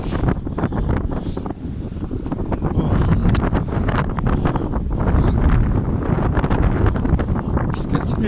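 Strong gusting wind buffets the microphone with a loud, continuous roar while a cyclist struggles to pedal a bicycle against it outdoors in March; a voice speaks briefly over the noise.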